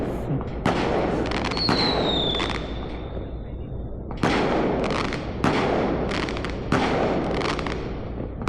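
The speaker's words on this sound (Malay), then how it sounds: "Mulanya bunga api." Fireworks burst at an outdoor evening gathering by a floating raft house during a fishing trip: a rising whistle, then several sharp, loud cracks spaced a second or two apart, each trailing a crackling decay.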